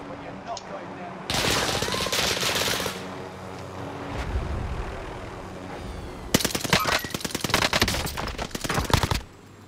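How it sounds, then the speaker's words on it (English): Rapid MG42 machine gun bursts in Call of Duty Warzone Pacific, with a long loud rattling burst, a pause, then a second dense sustained burst, close and loud with voices talking over the gunfire. "An MG42."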